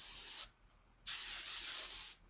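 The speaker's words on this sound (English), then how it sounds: "you're going to take hairspray, and I use Tresemme Fridge Shield, and you're going to" TRESemmé hairspray sprays onto hair in two close, hissing bursts: a short one, a pause, then a longer steady spray before it cuts off.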